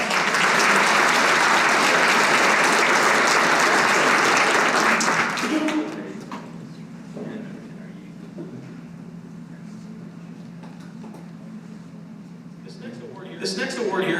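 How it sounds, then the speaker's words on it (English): A crowd claps loudly for about six seconds, then the applause drops away to a quieter room hum with a brief swell near the end. "let's give our top three distributors one round of applause"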